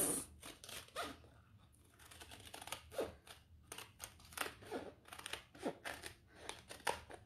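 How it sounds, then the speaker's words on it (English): Scissors snipping around a stabilizer base piece for a bucket tote, a series of crisp close cuts in uneven bursts with short pauses between them. "So I'll just cut around my base stabilizer piece."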